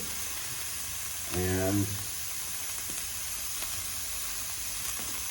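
Onion and garlic sauté in a pan for a green sauté, a continuous hissing sizzle that stays fairly quiet throughout, with a short voiced sound rising briefly over it.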